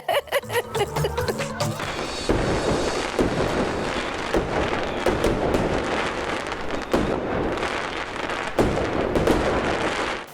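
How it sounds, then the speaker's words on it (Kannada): After a short burst of music, Diwali firecrackers go off outside in a dense, relentless barrage of crackling pops and bangs that carries on to the end. "ಇವತ್ತು ಯಾಕೆ ಪಟಾಕಿ ಹೊಡಿತಿದ್ದಾರೆ"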